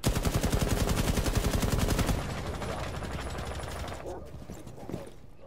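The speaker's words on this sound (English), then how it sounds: "This gun sounds insane." Rapid automatic gunfire from a gun with a 26-round magazine in a shooter game, a loud, steady burst of evenly spaced shots that stops after about two seconds, followed by quieter clatter and movement.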